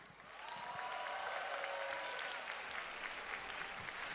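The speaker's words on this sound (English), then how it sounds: "let's give another big round of applause to our cheerleaders" An audience at ABU Robocon 2026 in Hong Kong applauds a cheerleading performance in a steady, sustained round of clapping that fades in quickly and holds at an even level.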